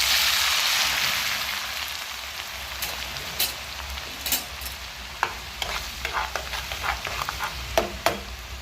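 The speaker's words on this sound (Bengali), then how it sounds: "এবার আলু ভাজবো। তেলটা, এই আলু ভাজার তেল প্রচুর গরম লাগবে" Potatoes deep-fry on full heat in very hot oil for wedding-style fried potatoes, opening with a loud hissing sizzle that gradually settles, then scattered spatula clicks and stirring taps over a softer bubbling.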